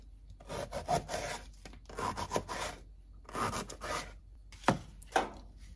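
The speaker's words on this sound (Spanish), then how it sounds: "Lo voy a partir en tiritas." Knife slicing a bell pepper into thin strips on a cutting board, a run of rasping cuts in short bursts with pauses between them, ending in two sharper chops, close by with no talk.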